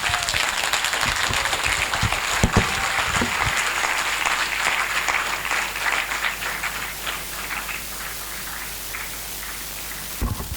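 Audience at a faculty administration week session claps steadily and loudly for a long stretch, a dense hiss of hands with a few sharp thumps and knocks, fading slightly before a final burst of louder handling noise.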